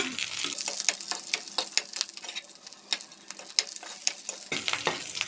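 Green chillies dry-frying in a pan with no oil or water, for an Indian gooseberry chutney: a steady soft sizzle broken by frequent sharp scraping stir strokes, close up, with a brief louder crackle near the end.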